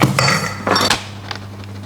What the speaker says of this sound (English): A final good stir.